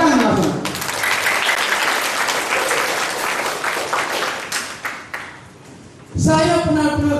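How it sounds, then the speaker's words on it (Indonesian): Audience applause at a theology lecture and debate, dense and steady clapping for about six seconds that thins and fades before a voice resumes talking near the end. "Tepuk tangan langsung."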